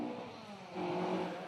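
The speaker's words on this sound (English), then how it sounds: "Oh, and here we go, the Escort Mexico." A Ford Escort Mexico replica rally car revs its engine at a sprint event, a steady mid-distance drone that swells in pitch and loudness halfway through, with no talk.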